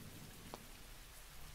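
Steady, faint rain hiss with a soft low rumble of thunder beneath it fills an outdoor scene in the video game The Walking Dead: Michonne, Episode 2, with no talk over it.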